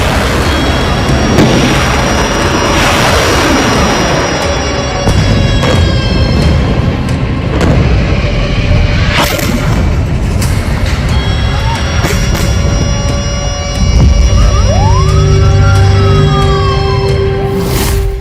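Rocket attack explosions and sirens in Israel: a loud, continuous rumbling roar with heavy booms and steady whining tones, and a wailing siren rising and falling near the end.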